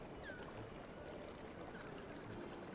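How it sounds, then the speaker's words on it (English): Water flows steadily through a cave in the video game Love and Deepspace. It makes a faint, continuous, even wash with no voices over it. "The sound of flowing water gradually fades behind us as we venture deeper."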